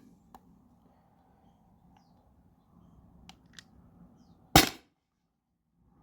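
A T4E HDP50 Gen 2 pistol fires a single 8.4 gram steel ball bearing, giving one sharp, loud crack that stands out from a quiet room with faint background rustle.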